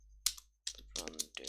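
Computer keyboard keys and a mouse click while saving code, a few close, crisp taps in short bursts with pauses between, alone without talk.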